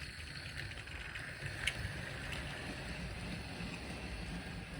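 A Wrenn model train runs steadily along its track, pulling an ore wagon and an LMS brake van, a continuous low rumble with faint rhythmic clicks and one brief sharper tick, moderately close and without talk.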